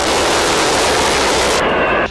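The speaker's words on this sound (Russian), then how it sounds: "Уж больно звук его пушки был схож с рыком дикого кабана." Cannon of an A-10 Warthog attack aircraft firing, a loud continuous ripping roar sustained for about two seconds, close and dense, with no voices.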